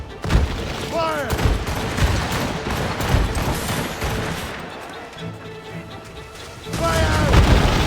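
Naval cannon fire during a ship battle in Assassin's Creed set in the Seven Years' War of 1755, heavy booms and crackling gunfire rolling through a busy battle din, with shouted crew voices.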